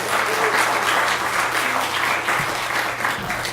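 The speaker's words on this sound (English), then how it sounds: "Please give yourselves a big round of applause for coming out." An audience claps steadily at a Weird Wednesday movie screening at the Joy Cinema and Pub, a dense, sustained round of applause from the crowd in the room for a few seconds.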